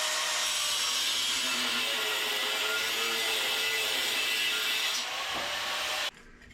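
A cutting tool grinds through a suspension stud on a 1964 Buick Riviera with a steady, harsh hiss that runs for about six seconds, eases slightly near the end and then cuts off abruptly.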